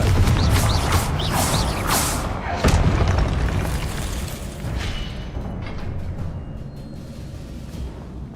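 The Confringo fire spell in the Hogwarts Legacy video game bursts with a loud booming blast, then rumbles on with crackling debris and swells of game noise that slowly fade.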